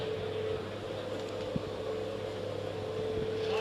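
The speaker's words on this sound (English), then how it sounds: "1971, that straight 6 engine, always sound well, don't they?" A 1971 Triumph straight-six engine runs steadily at a classic car auction. It makes a continuous, even, low humming drone with no clear revving, heard alone.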